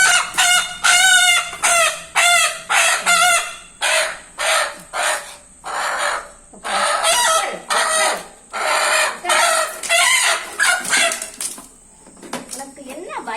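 A hen squawks and clucks loudly in repeated, frantic bursts while being held and placed onto eggs, close by, with people talking around it.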